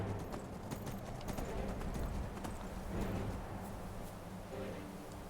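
A horse's hooves clip-clop steadily at a walking pace in the video game Skyrim, faint and close in a quiet game mix, with a voice talking over part of it.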